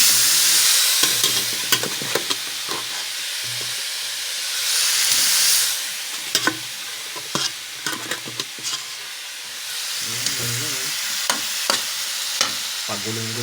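Shrimp frying in butter and margarine in a pan, a steady sizzle and hiss with brief louder surges, broken by sharp scraping clicks of a utensil stirring and turning the pieces.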